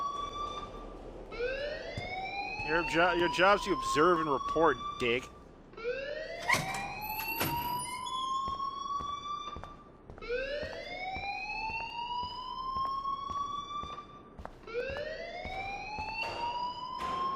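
A school alarm in the video game Life is Strange wails with a repeating rising tone about every four seconds, loud and persistent, while characters talk over it.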